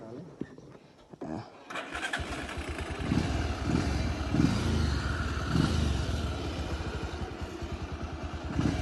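A motorcycle starts after a few clicks and quiet handling, then its engine runs steadily with a throbbing mid-range drone as it pulls away, close up and fairly loud, with people talking over it.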